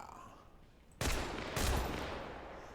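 An auto shotgun fires in a video game, two heavy blasts about half a second apart that burst in loud and close, then roll into a sustained noisy decay.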